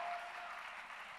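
A church congregation applauds with steady, dense clapping, a continuous wash of hands that stays even and moderately loud for the whole short stretch.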